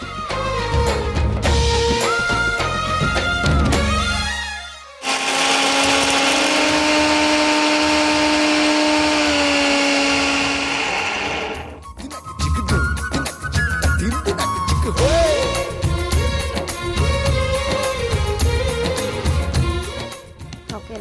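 A kitchen mixer grinder grinds roasted dal and dry chillies into powder, a loud, steady whirring roar that starts abruptly, runs for about seven seconds and then cuts out, with background music playing before and after.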